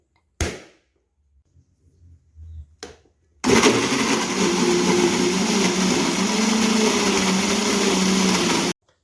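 An electric blender grinds a spice paste blended with oil for Asam Padeh Daging, a loud continuous whirring motor running steadily for several seconds after brief faint knocks and handling sounds at the start.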